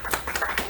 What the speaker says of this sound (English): All right, round of applause for our volunteers.